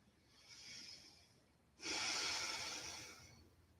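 A slow, relaxed breath during a gentle yoga session, a quieter inhale followed by a longer, louder airy exhale close to the microphone, with no talking.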